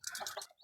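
Crossbred hens from Isa Brown and village chickens give a short burst of close clucking, a few quick cackling notes in under a second.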